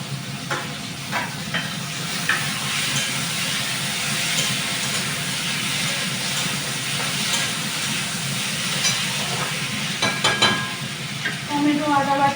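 Potatoes frying in a pan with tomato and ginger paste added, a steady close sizzle with scraping stir strokes throughout and a few sharp clinks near the end.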